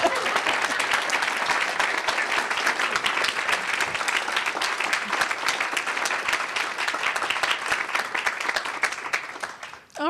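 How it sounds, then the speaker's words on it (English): An audience at a technological education forum applauds, a dense, steady wash of many hands clapping for about ten seconds before fading out at the end. "Now would be a really good time to applaud."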